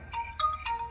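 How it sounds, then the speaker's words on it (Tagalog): A mobile phone ringtone plays a short electronic melody of three bright tonal bursts in quick succession, fairly soft and heard alone. "Oh, diyan mo cellphone mo, tagri-ring."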